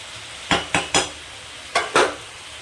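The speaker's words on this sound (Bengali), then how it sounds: "এভাবে আমি 5 মিনিট কষিয়ে নেব।" A spoon clinks and scrapes against a pan while a vegetable curry is sautéed and stirred, five sharp metallic strikes in two quick groups over a faint background hiss.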